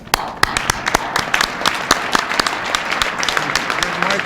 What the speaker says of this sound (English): Candy and Mike, please stand so we can applaud you.